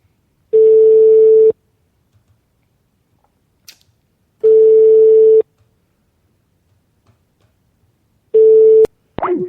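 Telephone line tone heard while calling an embassy: three long steady beeps, each about a second long with several seconds of silence between, loud and clean, the last cut off by a sharp click.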